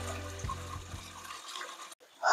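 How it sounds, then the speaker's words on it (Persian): Stream water pouring into a pipe in a valley, a steady rushing, gurgling flow heard close and fairly loud, ending with a brief break and a sharper splash. "لوله رو یه جوری گذاشتم آب بیاد بره تو لوله."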